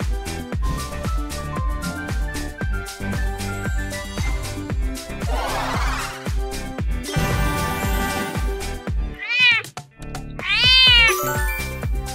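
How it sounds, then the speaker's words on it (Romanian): After a stretch of cheerful plucked music, a cat meows twice, clear and close, with a short pause between the two rising-and-falling cries. "Este o pisică!"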